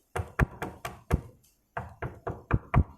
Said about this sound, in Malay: Contoh kita pergi rumah orang, ketuk.